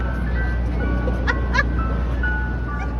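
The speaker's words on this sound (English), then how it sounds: "that ice cream truck's playing good music" A pink ice cream truck on a New York City street plays its tinkling jingle melody, moderately loud over a low rumbling engine idle and traffic hum.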